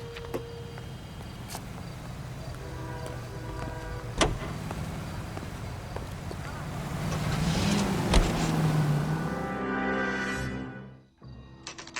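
A police patrol car driven in the video game L.A. Noire, with a low, steady engine hum and road noise that swells midway, then drops away abruptly near the end.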